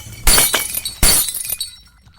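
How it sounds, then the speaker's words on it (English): Window glass shatters loudly in two quick crashes, with shards tinkling and scattering as the sound fades away. "the window shattered and some of the light bulbs exploded."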